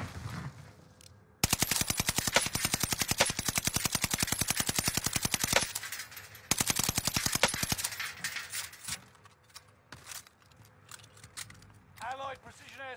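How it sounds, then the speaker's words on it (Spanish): Rapid automatic gunfire from a battle royale video game during a tournament match, long sustained bursts with a short pause between them, loud and close, with players talking over the shooting. "tu compa nos empezó a disparar, el Pepe"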